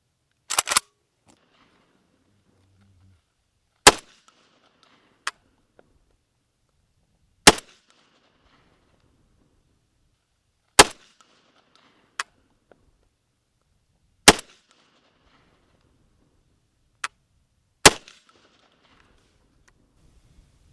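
A Hatsan BTS 12 gas-operated bullpup shotgun fires Fiocchi 9-pellet shells, with about seven sharp, loud single shots spaced a few seconds apart and near-silence between them, plus a few fainter clicks.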